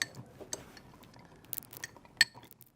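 A Negroni cocktail is stirred in a glass, giving faint, scattered clinks and light ticks against quiet surroundings.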